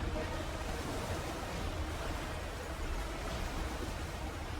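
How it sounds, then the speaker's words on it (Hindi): Rushing flood water surges through a mine in a film scene, a dense, steady roar of churning water with no letup and no speech. "पर हमने भयानक पानी आते देखा।"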